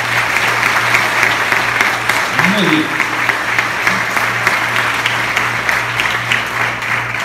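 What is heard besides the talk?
audience applause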